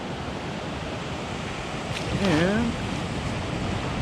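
Calm ocean surf washes steadily at Santa Monica Beach, a soft continuous wash of small waves with a brief swell in the middle, while a voice speaks a word over it.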